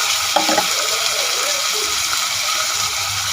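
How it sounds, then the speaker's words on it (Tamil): Tomato and ginger garlic paste sauté in a pan for chicken salna, with a steady close-up sizzle and hiss. A brief voice is heard near the start. "எல்லாம் சேர்ந்து வதக்கி விட்டுலாம்"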